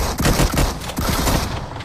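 Gunfire in the mobile battle royale game BGMI, a dense rapid volley of shots in quick overlapping bursts, loud and close, with no pause.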